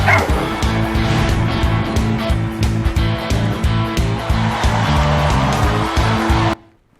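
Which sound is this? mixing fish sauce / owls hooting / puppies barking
puppies barking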